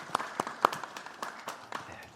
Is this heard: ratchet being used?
no